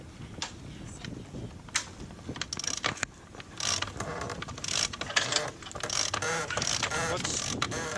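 Self-tailing winch on a sailboat being cranked, giving bursts of close ratcheting clicks and mechanical whirring in uneven runs, with short pauses between spells of turning.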